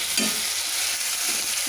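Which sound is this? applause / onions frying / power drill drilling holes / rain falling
onions frying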